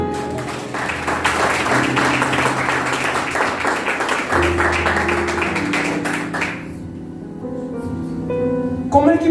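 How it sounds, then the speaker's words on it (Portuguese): A church congregation applauds together, a dense sustained clapping that swells over music and voices before tapering off near the end. "Você pode aplaudir por isso?"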